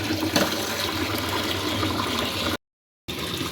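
Water pours steadily into a cooking pot being filled for cleaning, a continuous close rushing stream that cuts off briefly near the end and then resumes.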